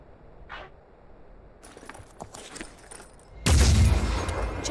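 Gunfire in the video game Phoenix Point: a quiet stretch, then scattered sharp clicks and shots, then a loud, sustained burst of fire that fills the last second and a half.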